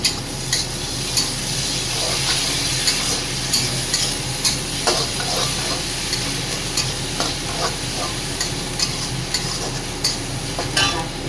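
Garlic, ginger paste, green chili and tomato fry in a pan for ghugni, a loud continuous sizzle broken by regular scraping clicks of a spoon stirring throughout.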